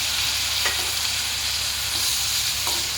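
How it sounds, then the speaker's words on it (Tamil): Chopped tomatoes hit a pan of sautéed onions and fry with a loud, dense, continuous sizzle, broken now and then by brief spoon scrapes, close up and with no speech. "இப்போ வந்து நம்ம கட் பண்ணி வச்சுருக்கிற டொமேட்டோ உள்ள போட்டுக்கலாம்."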